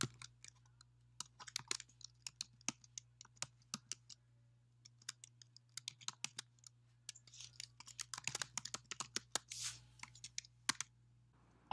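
Light clicks and taps of a computer keyboard as a network ID and password are typed, irregular bursts of keystrokes with short pauses, quiet and close.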